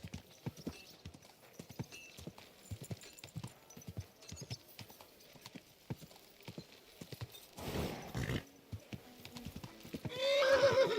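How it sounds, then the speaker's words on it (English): Steady clip-clop of horse hooves trots along at a brisk rhythm in the video game Kingdom Come Deliverance 2, then a horse whinnies loudly near the end. "Watch out with that horse!"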